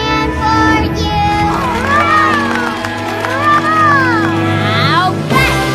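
Cartoon children cheer and shout together over bright background music, voices rising and falling in excited whoops. A lively crowd din stays loud throughout and swells near the end.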